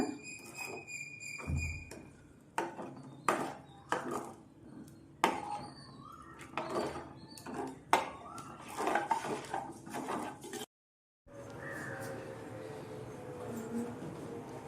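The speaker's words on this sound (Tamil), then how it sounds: "புளி கரைச்சல் தண்ணி சேர்த்துக்கிட்டு நல்லா கிண்டி விடுங்க" A utensil repeatedly scrapes and knocks against a metal pot of fish curry with tamarind water in irregular strokes, with a short silent gap before a steady simmering hiss.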